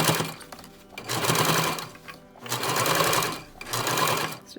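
A sewing machine sews along the edge of a fabric face mask's filter-pocket lining, whirring in three long continuous runs with short stops between them, close and steady, with no talk.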